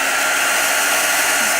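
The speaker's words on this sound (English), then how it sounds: "Careful with fabric for the heat gun, they will melt it." A heat gun blowing hot air over a mixed-media craft surface, a loud, steady, unbroken whoosh held close throughout with no talk.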